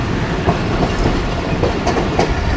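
The Millat Express runs on rails close by, a loud steady rumble broken by repeated clickety-clack wheel beats, with no one speaking.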